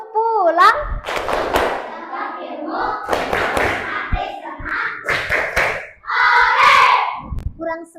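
A group of children in a classroom perform a going-home clapping chant, with rhythmic bursts of hand claps and thumps between sung and spoken lines, voices loud and close.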